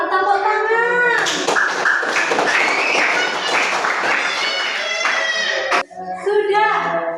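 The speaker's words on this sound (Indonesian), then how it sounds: "Tepuk tangan." Children applauding in a classroom, a loud burst of many hands clapping together for several seconds before it stops abruptly, with children's voices calling out before and after.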